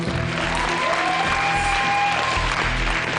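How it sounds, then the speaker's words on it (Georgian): A studio audience applauds on a Georgian talk show, a steady, full wash of clapping heard from start to finish with a faint tonal hum underneath. "ვაუ, აპლოდისმენტები."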